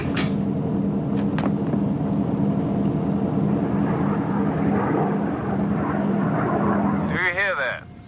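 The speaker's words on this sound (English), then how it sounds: "Aircraft approaching green 70." A propeller aircraft engine drones steadily as it approaches a patrol boat at sea, a continuous mid-pitched hum, with a voice speaking toward the end.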